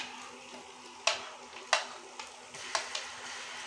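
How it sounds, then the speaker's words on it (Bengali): Garlic paste sizzles steadily in hot oil in a pan alongside onion paste, with several sharp clicks and scrapes from a spoon stirring it. The sound is close and fairly quiet, and no one speaks. "এখন আমি দিয়ে দিচ্ছি রসুন বাটা,"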